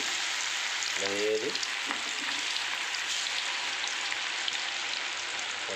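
Chicken pakodi pieces hiss and crackle in hot oil with a steady, dense sizzle. A brief voice speaks early on over the frying, and a faint clatter follows as pieces are dropped in.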